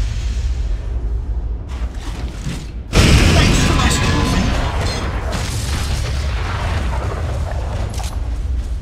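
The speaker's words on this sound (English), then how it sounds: "The explosion should free those trapped miners." A coring-charge explosion blasts apart rocks to free trapped miners in the video game Metal Arms: Glitch in the System. A sudden loud boom hits after a short hush, then rumbling debris and game noise continue, with game voices heard over it.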